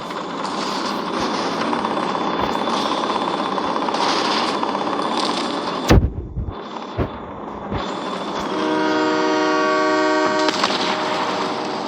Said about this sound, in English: Shut up, train!